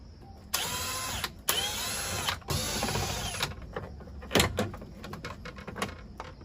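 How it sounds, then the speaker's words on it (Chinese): A power drill whines in three sustained bursts, close and loud, while backing out the fixing screws on a washing machine opened for a control board replacement, followed by scattered clicks and clatter of loosened parts. "这边有几个固定螺丝拆掉"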